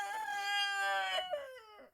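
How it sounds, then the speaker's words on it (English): A rooster crows once in a long, drawn-out call that rises and then trails off in a couple of strained notes, heard fairly close. "the rooster is really wanting to make himself known"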